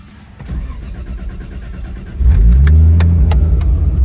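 A right-hand-drive Toyota Supra cranks briefly and then catches, settling into a loud, deep idle close by.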